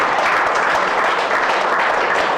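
Dense, sustained applause from a large audience at a talk, many hands clapping together in a steady roar for the whole stretch, with no voices over it.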